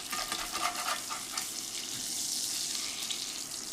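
Reheated food sizzles in a pan with butter on an induction burner as it is flipped, a close, loud, steady crackling hiss with brief bursts of spatter.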